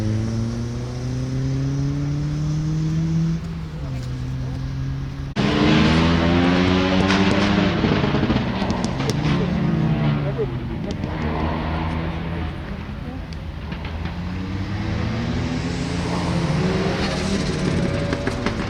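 A full performance RS rally car at a Lombard Rally stage at Weston Park revs hard and accelerates off the start line, engine note climbing through gear changes, loud and close, then fading as it pulls away.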